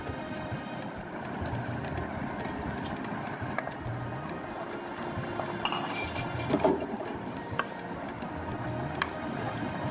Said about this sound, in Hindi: उसको मिक्स कर रही हूँ।